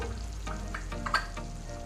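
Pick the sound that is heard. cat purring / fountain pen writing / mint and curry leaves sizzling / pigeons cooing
mint and curry leaves sizzling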